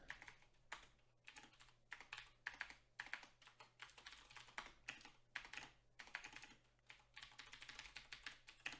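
Rapid typing on a computer keyboard, close and fairly quiet, with dense clattering keystrokes in bursts broken by short pauses over a low steady hum.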